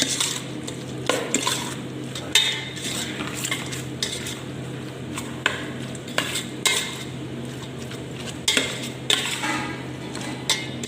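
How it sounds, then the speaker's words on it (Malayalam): A utensil scrapes and clinks against a bowl as Kerala-style beef curry ingredients are mixed, with repeated stirring strokes and a steady low hum in the background. "ഇനി എല്ലാം കൂടെ ഒന്ന് മിക്സ് ചെയ്ത് നല്ലോണം മിക്സ് ചെയ്തെടുക്കാം"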